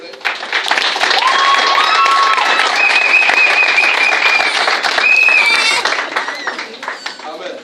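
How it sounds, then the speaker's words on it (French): Church congregation at a wedding service applauding and cheering steadily, dense clapping with voices and whoops throughout, fading near the end. "Est-ce qu'on peut acclamer le Seigneur s'il vous plaît?"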